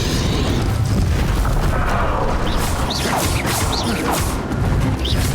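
Spell explosions in Hogwarts Legacy during a final boss fight, heard as a dense, continuous barrage of booms and crashes. Whooshing bursts cut through a loud, steady roar.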